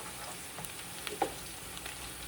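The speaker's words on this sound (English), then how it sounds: "So we let it fry a little bit." Spinach sauce frying in a pot, a soft steady sizzle with a few small pops and stirring clicks, heard close and without talking.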